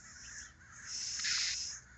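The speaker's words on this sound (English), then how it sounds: "Crows are making plenty of noise this morning." Crows caw loudly in the morning on a farm, a few harsh, rasping calls that overlap and swell in the middle before fading, with no talking.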